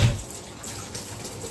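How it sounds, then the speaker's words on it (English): A kitchen tap runs steadily while hands are washed beneath it, a soft continuous splash and hiss close by, with no talking. "Let me wash my hands."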